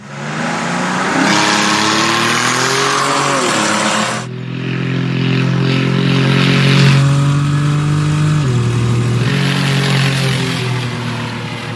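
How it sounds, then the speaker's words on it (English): A drag racing car with a manual shifter launches down the strip, its engine roaring loud and close through rising gear pulls, with shift breaks where the revs drop before climbing again. "I think we'll make one more pass and see if I can actually make it shift on time."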